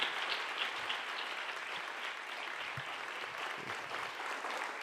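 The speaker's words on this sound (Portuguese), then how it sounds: "Você pode aplaudir ao Senhor?" A church congregation claps together in a continuous, even wash of applause, moderately distant and fairly quiet, holding steady without pause for the whole few seconds.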